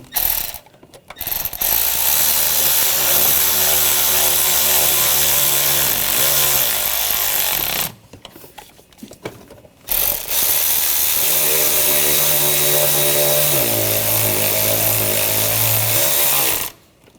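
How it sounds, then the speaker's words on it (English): Bolts being tightened on the intake manifold of a 2004-2012 Chevrolet Colorado 3.7L five-cylinder engine, likely with a power tool, heard as loud, sustained mechanical whirring bursts broken by a couple of short pauses. "And take these bolts, get those started. Tighten these down."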